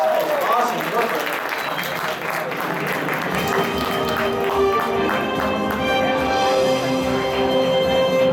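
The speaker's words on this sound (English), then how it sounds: "Give him a big round of applause, guys." Audience applause at an anime convention's Millionaire-style game show, a full sustained clapping crowd at close range with a voice talking over it and some music rising underneath.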